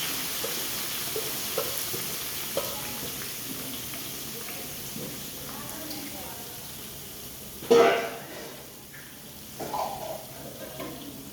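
Curry leaves, onion and carrot frying in oil in a pan while rava upma is made, with a soft steady sizzle and a sharper burst of crackling midway, mostly under a person talking.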